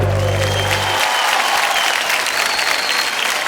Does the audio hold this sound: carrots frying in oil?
no